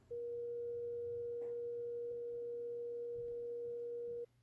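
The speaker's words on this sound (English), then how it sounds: "I'm going to demonstrate a really focused pitch sound" Pure sine wave tone played from an iPad app, one steady unwavering pitch held for about four seconds before cutting off abruptly over faint room noise.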